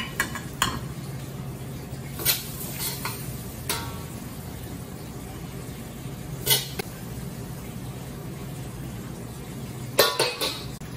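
Stir-fried Mongolian beef with onion is plated, with scattered clinks and clatters of a pan and dishes over a steady low kitchen hum, several sharper knocks spaced out and one cluster near the end.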